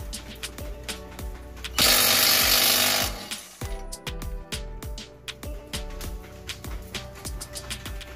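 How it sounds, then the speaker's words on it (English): An AV Power impact gun hammers a car's spindle nut loose on a B13 Sentra brake job, a loud continuous burst of rattling impacts lasting over a second, surrounded by clanking tool and workshop noises. "The AV power, the gun, have the torque to pull this spindle nut."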